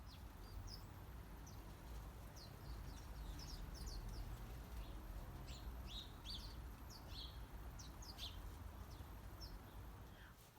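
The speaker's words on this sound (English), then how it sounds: "did you see all those birds that came to the feeder after I'd gone in?" Small birds at a garden feeder chirp and tweet in scattered bright calls throughout, fairly faint over a low outdoor rumble.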